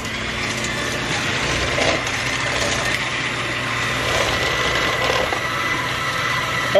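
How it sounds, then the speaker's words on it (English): Electric beater whipping cream with sugar and vanilla for a coffee crunch cake, giving a steady, close whirring hum with a slight rattle that runs continuously without talk. "Then just start whipping."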